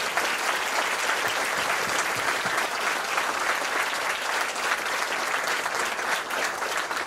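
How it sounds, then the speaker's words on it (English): Audience at a Marine Corps graduation ceremony applauding the drill instructors, dense sustained clapping from a large crowd, even and steady throughout. "let's give these drill instructors a round of applause"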